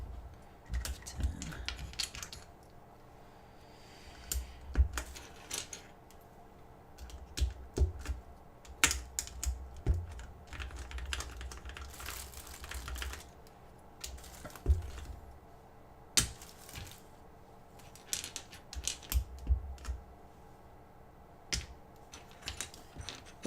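Keycaps pressed onto a custom mechanical keyboard make a steady scatter of close plastic clicks and taps over about twenty seconds, irregular in rhythm with brief pauses.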